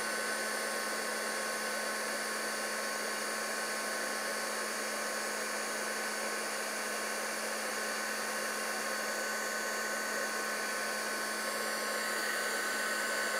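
A heat tool melting white embossing powder on kraft card, giving a constant steady blowing whir that stays even and fairly loud from start to finish.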